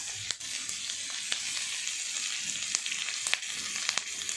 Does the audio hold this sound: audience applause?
no